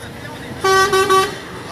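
Car horns honking from passing traffic at a street protest in France, a few short toots rising over background crowd noise and voices.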